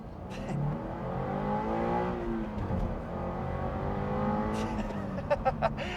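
A Toyota GR86 exhaust with a JDL UEL header and stock catback growls as the engine revs up and settles, rising and falling, with a few sharp pops near the end.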